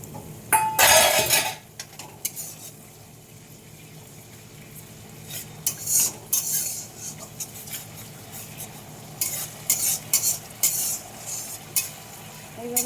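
Garlic being stirred into an oily masala in a pan for an egg and potato curry, with a scraping, clattering spatula, a few louder bursts of stirring over a soft steady sizzle.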